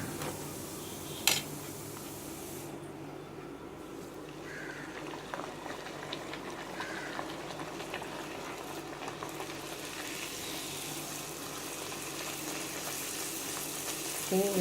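Puri fries in hot oil in a home kitchen, giving a faint, continuous bubbling sizzle with a few soft clinks and bumps over roughly fifteen seconds, with no voices.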